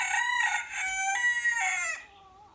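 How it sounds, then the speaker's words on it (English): A rooster crows once in a full cock-a-doodle-doo, loud and close, with a strained, rising middle and a trailing end. Faint low rumbling sits beneath it. "Roosters, man."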